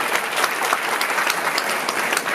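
An audience in a church claps for couples honoured at a jubilee, dense continuous applause from many hands, close and lively throughout.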